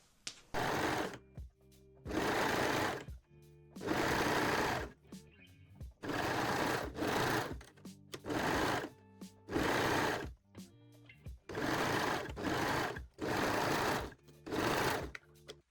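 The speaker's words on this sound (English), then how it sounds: "And sew them using a serger or a zigzag stitch." A serger stitches seams in mesh fabric for panties, running in repeated close bursts of about a second each, separated by short pauses as the fabric is repositioned.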